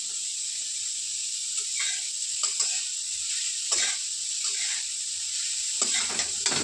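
Carrot halwa simmering with milk in a pan on the stove, a soft steady sizzle with several scraping stirs breaking through at irregular intervals, close and moderately loud.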